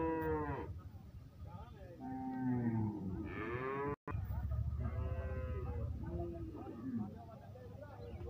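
A native dairy cow at a large cattle market in Bangladesh lows in several long, deep moos close by, while people talk around it.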